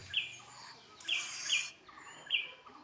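A wild bird calls near a home in repeated short, bright chirps, about four of them spaced a second or so apart, moderately close against quiet background noise.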